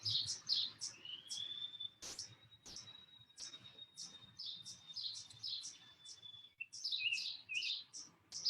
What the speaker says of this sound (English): Can you guys hear the birds around me?